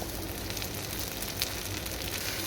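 Rice being fried with meat and onions in a pot for tehari gives a steady, dense sizzle that holds evenly throughout, with no voices.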